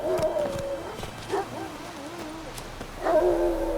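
Dog in The Witcher 3: Wild Hunt barking and whining in short yips and a drawn-out howl-like cry, moderately close, over soft game ambience with brief voice-like sounds.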